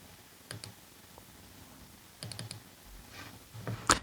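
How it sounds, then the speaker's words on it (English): Computer keyboard clicks come in two short bursts of quick keystrokes with quiet gaps between them, heard up close and alone, with no voices. "I hear you clicking."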